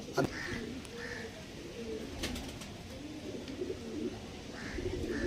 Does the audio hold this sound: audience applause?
no